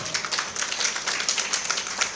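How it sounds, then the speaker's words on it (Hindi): An audience at a Shrimad Devi Bhagwat Katha religious discourse breaks into brief applause, a thick burst of many hands clapping together for about two seconds. "तालियों से स्वागत।"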